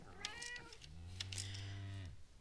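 A cat meows once in Minecraft with the ATM 11 modpack, a clear drawn-out video game meow heard alone and up close.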